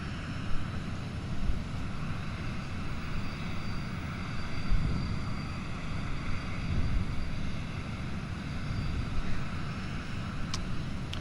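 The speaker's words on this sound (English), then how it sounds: "you can hear the engine spinning" A320 jet engine spinning up in a flight simulator, heard as a steady broadband roar and hum that stays even throughout, with no voices over it.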